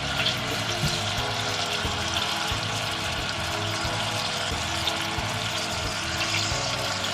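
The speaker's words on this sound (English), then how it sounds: "Let it simmer" Berry sauce with melted butter simmers in a pan, a close, steady bubbling and gentle sizzle with no clear breaks, moderately quiet and with no voices.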